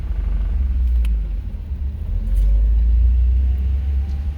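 A 1980s Japanese car with a rough aftermarket clutch pulls away, heard from inside. A loud, low engine rumble rises and swells as the car moves off, with no voices.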